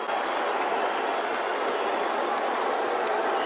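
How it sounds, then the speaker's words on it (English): A comedy-show audience boos Elon Musk, a dense, steady wash of crowd noise holding at one level throughout, with faint sharp ticks riding on top. "Yeah, booing him."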